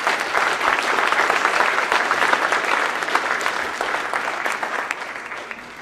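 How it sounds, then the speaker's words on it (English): A banquet audience at a university Hall of Fame induction breaks into sustained applause, a thick, even roar of many hands clapping that holds for several seconds and slowly tapers off toward the end. "So let's give you a round of applause."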